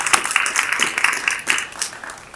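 A community meeting audience in Minneapolis breaks into a dense, steady round of applause, many hands clapping together at close range and sustained throughout without a pause.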